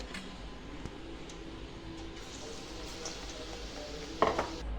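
Spinach leaf fritters (palak bhaji) fry in hot oil with a steady, soft sizzle, joined by occasional clinks of a utensil against the pan near the end.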